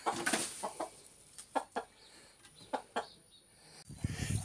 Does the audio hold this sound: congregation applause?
no